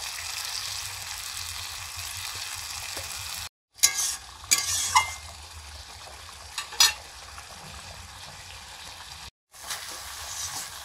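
Chilli and turmeric with chopped tomato sautéing in a pan, a steady low sizzle broken by a few sharp scrapes and clinks of the spoon as the spices are stirred, close and with no talk.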